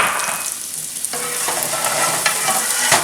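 Garlic sizzles in hot oil and is stirred in the pan, a loud crackling hiss that swells after a short quieter start and carries faint scraping taps, with no voices.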